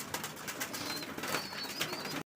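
A male and female pigeon pair coo faintly in a continuous, muffled stream over a hissy background, with occasional soft higher chirps, before the sound cuts off abruptly.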